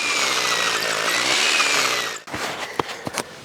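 A power drill drilling post holes for a cabin porch whines loudly and continuously for a couple of seconds, then cuts off, leaving a few scattered knocks and clatters.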